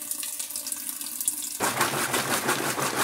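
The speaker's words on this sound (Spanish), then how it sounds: "que terminó de exprimir y ahora va con el enjuague" A Kenmore/Whirlpool automatic mechanical washing machine starts filling with water for its rinse cycle; after a low hum, a sudden steady rush of inflowing water begins and continues loudly.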